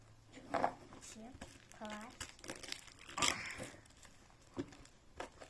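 Plastic packaging crinkles as the box of a Frozen-themed jigsaw puzzle with Elsa and Anna is opened, brief soft rustles mixed with a woman's chatter.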